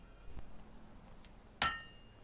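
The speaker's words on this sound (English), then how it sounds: "A perfect hammer blow." A blacksmith's hammer strikes metal once in Fable II, a single sharp ringing clang near the end after quiet ambient room tone, with no talk.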